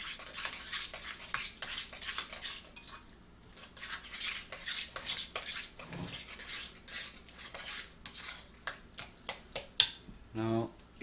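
Meatloaf ingredients being mixed in a bowl produce a run of soft rhythmic clicks, taps and scrapes, close and quiet, ending in a brief clattering knock.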